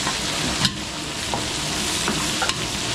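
Garlic and onion sautéing in a pan, a steady broad sizzle with a few sharp stirring scrapes of the utensil, close and alone with no talk.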